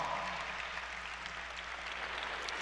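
Audience applause at a high school graduation ceremony, a steady wash of many hands clapping, moderately distant and sustained throughout without talk.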